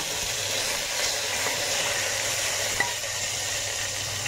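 Onion, ginger and garlic paste frying in hot oil with cumin, garam masala and bay leaf, giving a steady close sizzle throughout with a faint background hum.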